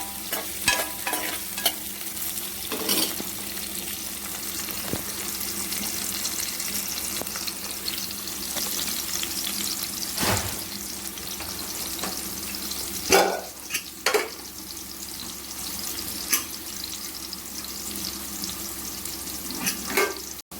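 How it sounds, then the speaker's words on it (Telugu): Onions and green chillies frying in oil in a pan for a broad bean fry, a steady close sizzle broken by occasional scrapes and knocks of a stirring spoon against the pan. "పచ్చిమిర్చి వేస్తున్నాను. కొంచెం వేగనివ్వాలి."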